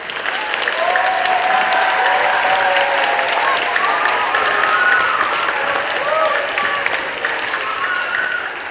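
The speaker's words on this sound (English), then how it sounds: "So can we give them a round of applause?" Sustained applause from an audience at a Veterans Day event, a thick, continuous roar of clapping hands lasting several seconds, with cheering voices and whoops rising above the crowd throughout.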